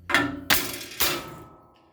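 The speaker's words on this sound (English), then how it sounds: "Get you a little nylon hammer." A small nylon hammer strikes a car part three times in steady succession, each knock a sharp close thunk that rings briefly before fading, with no talking.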